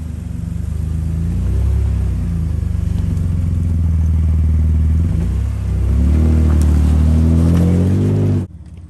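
An off-road truck's engine revs hard and loud on a difficult trail as it drives onto driftwood placed under a tire, with a rising roar and some clatter before cutting off abruptly.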